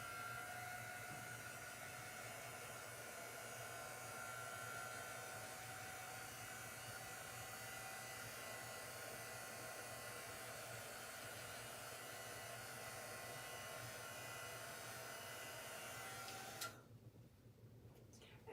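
A hair dryer runs steadily for a long stretch, close and even in pitch as it dries chalk paste on a craft stencil, then cuts off near the end.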